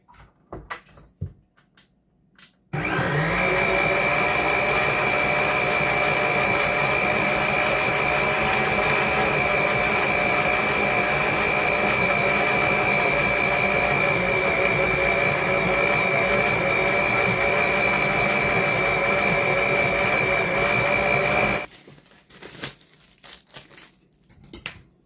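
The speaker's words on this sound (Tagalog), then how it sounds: "Mix na natin dito sa mixing bowl." An electric mixer whirs steadily in a mixing bowl of combined dough ingredients, loud and close for about twenty seconds, with short quieter handling sounds before and after.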